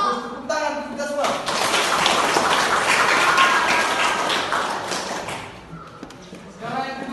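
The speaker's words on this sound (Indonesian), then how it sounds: "Tepuk tangan kita semua." A group of students claps together in a classroom for several seconds, a dense burst of applause between brief moments of speech.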